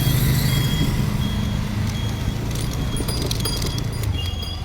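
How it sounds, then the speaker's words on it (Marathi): A vehicle pulls up close by, its engine and road noise a loud, steady broadband rumble throughout, with faint high tones flickering near the end and no one talking. "यप गाइस, आपली गाडी आलेली आहे इथे."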